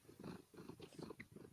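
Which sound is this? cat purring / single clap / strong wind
cat purring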